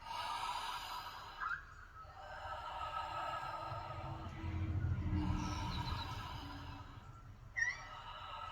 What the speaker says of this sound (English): you're going to exhale fully, 3, 2, 1 to inhale